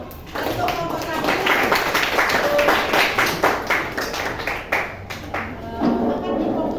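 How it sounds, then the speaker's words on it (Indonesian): Classroom applause for the first student group, a dense burst of many hands clapping close by for several seconds, with voices mixed in. "Untuk semangat kita beri tepuk tangan dulu. Untuk kelompok 1."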